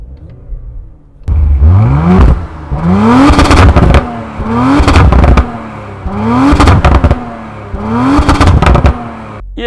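Audi RS4 engine revving hard in a series of four or five loud, rising bursts that drop back between each, close and alone without talk.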